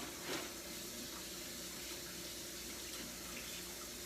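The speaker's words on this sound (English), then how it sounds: "Right now he washing the fish off and all that. He cleaning the fish." Tap water runs steadily over fish being washed in a sink, a constant close splashing hiss with no voices.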